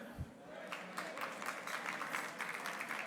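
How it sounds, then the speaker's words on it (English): Banquet audience in a large hall applauding the kitchen staff and servers at a biennial congressional banquet, a moderate, steady wash of many hands clapping heard from a distance, with some room murmur under it. "How about a big round of applause for the kitchen staff and our servers doing such a great job?"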